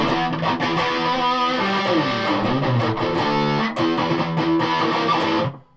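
Loud, heavily distorted electric guitar, a Yamaha Pacifica 112J with humbuckers through a Rat distortion pedal, playing a chugging riff with sustained chords, cutting off abruptly at the end.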